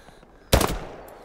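A single close, loud gunshot in the World War II shooter game Hell Let Loose cracks sharply after a quiet moment, then decays into a short echoing tail.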